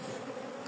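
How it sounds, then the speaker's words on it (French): Dense, steady buzzing of many honeybees flying around a hive that has just swarmed, a continuous close hum with no voices over it. "Les abeilles un peu plus brillantes qui volent beaucoup plus que d'habitude."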